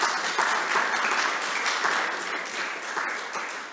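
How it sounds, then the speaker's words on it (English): A church congregation at a Sunday service breaks into applause, a full, continuous wash of clapping hands that starts strong and eases slightly toward the end. "Giving them a round of applause is a great start."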